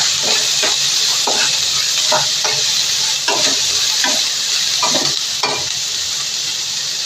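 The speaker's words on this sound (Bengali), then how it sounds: "সবগুলোকে একটু ভেজে নেব" Three red and green chillies fry in a hot pan with ginger and garlic, giving a steady dense sizzle broken by regular scraping clicks of a stirring spoon, close and loud throughout.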